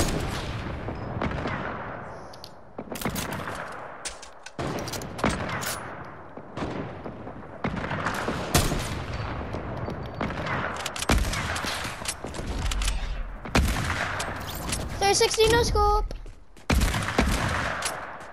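Gunfire in a multiplayer shooter video game: rapid bursts and volleys of shots, loud and close, repeating in clusters throughout with brief gaps, sniper fire among them.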